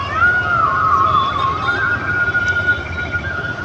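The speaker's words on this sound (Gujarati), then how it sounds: "અમારે અહીંયા મોરલો બોલે" A peacock calls near a busy vegetable market street, one long wavering cry lasting a few seconds, carried over a steady low rumble of traffic.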